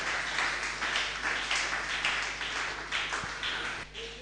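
A church congregation applauding during a Sunday service, steady rhythmic clapping from a group that continues throughout, fading slightly at the end.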